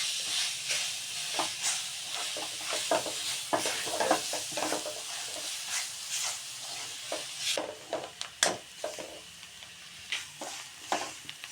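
Semolina halwa with dry fruits and grated carrot is stirred and roasted in a pan, giving a soft continuous sizzle broken by repeated scraping strokes of the spoon, close and steady with no talking.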